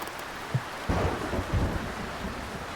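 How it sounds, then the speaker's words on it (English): A thunderstorm rolls over the sea in the sailing game Sailwind, with rain hissing steadily throughout and a low rumble of thunder breaking in near the start, nearby and fairly loud. "I don't feel like I'm outrunning the storm"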